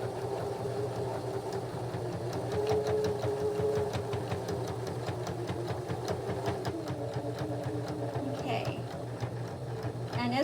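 A sewing machine stitches through thick fabric for a fabric gift bag, its fast steady mechanical whir running close and loud throughout while someone talks over it.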